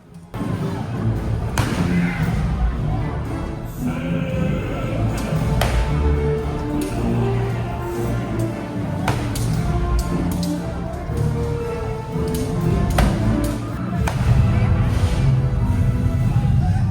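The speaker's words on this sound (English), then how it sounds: "a fight eventually breaks out and there's quite a bit of cannon fire" Cannon fire booms through a pirate dinner show battle, several heavy thuds and bangs scattered over a loud, busy arena din of crowd and effects.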